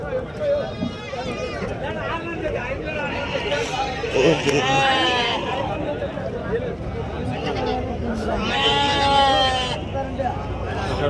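Sheep bleating repeatedly at a busy Saturday sheep market in Angallu, several loud nearby bleats over a constant hubbub of people talking and bargaining.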